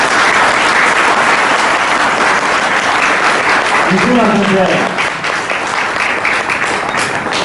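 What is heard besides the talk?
audience applause after lecture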